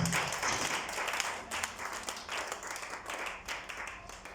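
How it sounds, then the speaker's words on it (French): Church congregation applauding during a French-language sermon, a steady wash of clapping that continues through the whole moment with some rising and falling bursts, fairly close and dense. "Acclame pour la gloire du Seigneur."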